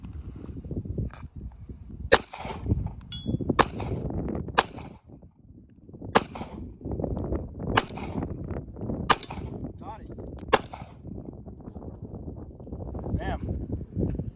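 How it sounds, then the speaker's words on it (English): Sharp single shots from a Sig Sauer P238 pistol fired one-handed at a target about 40 feet away outdoors, around eight evenly spaced cracks standing out above steady wind noise. "I'm gonna try to do one-handed shots"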